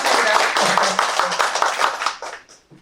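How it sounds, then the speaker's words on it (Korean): Applause at a 2021 Daejeon sustainable development seminar, a crowd clapping briskly and close for about two seconds before fading out. "우리 이참에 박수 한번 크게 쳐주세요"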